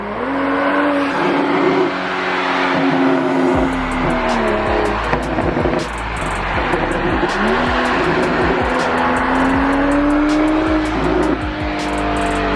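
A tuned 370 hp BMW 335i F30 revs hard again and again, its loud engine note climbing and dropping in steady sweeps over a rumbling low end, with sharp pops scattered throughout.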